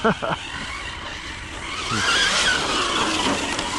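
A Hobao Hyper 10SC 2.0 RC short course truck running on a 3S battery, a rising whine of motor and tires that builds louder toward the end after a couple of short knocks at the start.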